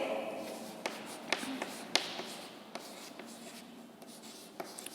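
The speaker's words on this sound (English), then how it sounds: "I'll write here second." Chalk or marker scratches and taps on a classroom board in short, irregular strokes with brief pauses, fairly close and quiet against a faint room hum.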